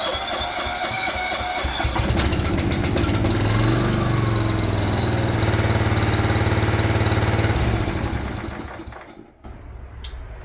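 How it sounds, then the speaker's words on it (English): Ultimower lawn mower engine running at a steady, loud, rattling drone close by, then cutting out and winding down near the end. "we're going to start the engine back up"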